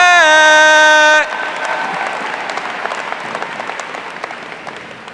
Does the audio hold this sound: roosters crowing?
no